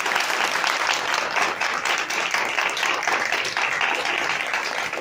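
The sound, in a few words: audience applause in church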